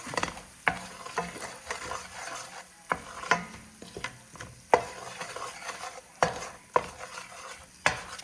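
Flour stirred into a roux on low heat, with a spoon scraping the pan in repeated rhythmic strokes over a soft, constant sizzle; close and clear, no voices.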